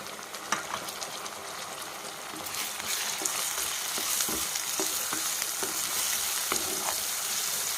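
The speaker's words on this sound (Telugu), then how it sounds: "టమాటా ముక్కలు వేసుకుందాం." Tomato pieces sizzle and fry steadily in a hot pan for a mutton pulusu, with occasional stirring scrapes and a slight swell in the sizzle partway through, close and continuous with no talk.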